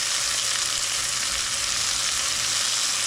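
Onions frying in a tablespoon of butter on high heat, a loud, continuous crackling sizzle that stays even and close throughout.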